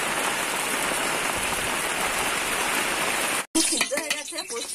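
Heavy rain pouring down steadily, a loud dense continuous hiss of drops on surfaces that cuts off abruptly near the end, followed by softer kitchen sounds and a voice speaking.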